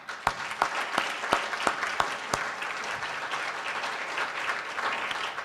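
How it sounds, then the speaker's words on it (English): Ceremony audience breaks into applause: a few loud, distinct claps at first, quickly swelling into a sustained, even wash of clapping from the crowd. "I applaud you"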